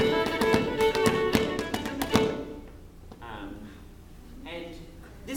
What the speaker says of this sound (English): I guess we do this funny thing with our feet to keep time